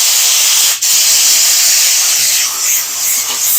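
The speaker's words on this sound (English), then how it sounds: "this is just a brush, airbrush with air hose in it, and we're going to make sure that these knot holes and everything are blown out" Loud, continuous hiss of compressed air from an airbrush on an air hose, blowing dust out of knot holes in a wooden project before the final clear coat, close and steady with a brief dip partway through.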